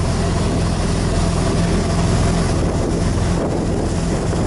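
A passenger boat travels across Tonle Sap lake toward Siem Reap, its steady engine drone mixed with water wash and heavy wind buffeting the microphone, loud and continuous throughout.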